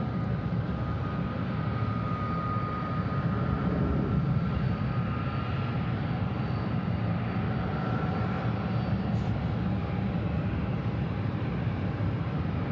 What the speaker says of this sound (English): No, it's a guy taxiing.